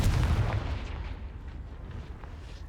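In the Hogwarts Legacy video game on PS5, a Confringo spell blast lands as a heavy booming explosion that is loudest at the start and rumbles away into a fading roar.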